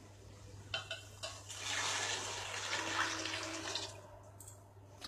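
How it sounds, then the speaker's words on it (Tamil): Measured hot water poured into a pot of rice while cooking, a close, steady splashing gush lasting several seconds, preceded by a few light knocks, heard quietly and alone. "இப்போ இந்த தண்ணி எடுத்து நம்ம அளந்து இதில் ஊற்றிடலாம்."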